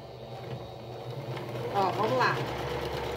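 A sewing machine runs briefly while stitching crazy patchwork fabric, a soft mechanical whirr that swells toward the end after a short spoken remark.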